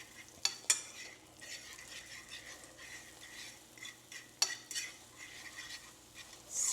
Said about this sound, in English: I'm just scrambling these eggs just as wrong